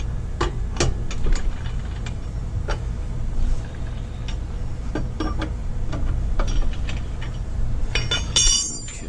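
Lug nuts are loosened on a wheel of a 2013 Chevrolet Equinox, heard as scattered sharp metallic clicks and knocks over a loud, constant low outdoor rumble.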